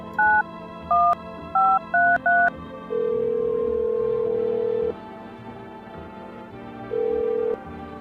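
A phone in an indie horror game dials out with a quick run of five crisp touch-tone beeps, followed by a long steady tone, a pause, and a shorter repeat of the same tone, all loud and clean.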